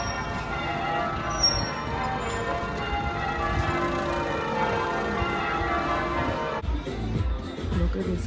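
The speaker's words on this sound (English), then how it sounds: "those fucking bells are head wrecking" Church bells in Dublin ring continuously with dense, overlapping tones, a loud sustained wash that cuts out abruptly near the end, followed by quieter background noise.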